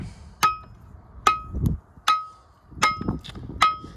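A fiberglass post used to center a 6-inch well casing on sewer pipe is tapped into place with five sharp, ringing knocks at a steady, unhurried pace, each followed by a brief metallic tone, with faint speech in between.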